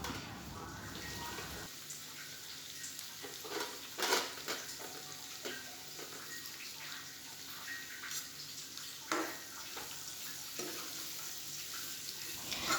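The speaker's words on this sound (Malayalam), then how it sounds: "ഇനി ഇതൊന്ന് നമുക്ക് നന്നായിട്ട് വഴറ്റി കൊടുക്കാം നന്നായിട്ടൊന്ന് കുഴയുന്ന ഒരു പരുവം വരെ നമുക്ക് ഈ സവാള വഴറ്റിയെടുക്കണം" Two chopped medium onions sautéing with lightly browned shallots in a pan for mutton curry: a steady, fairly quiet sizzle broken by occasional scrapes of the spoon.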